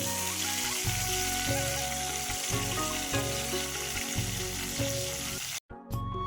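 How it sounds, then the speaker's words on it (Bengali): Slices of pointed gourd (potol) fry in a pan with a steady, hissing sizzle under looping background music, which cuts out abruptly near the end. "তারপরে এখানে দেখো পটল ভাজা করে নিচ্ছি।"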